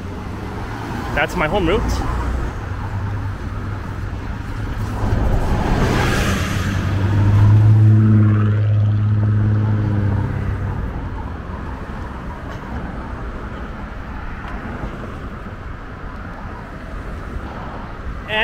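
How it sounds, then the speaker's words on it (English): A Toronto city bus near the Science Centre station pulls away, its engine swelling into a low roar that rises and then fades into passing traffic, with someone talking over it at times. "So let's watch this bus leave I was just on."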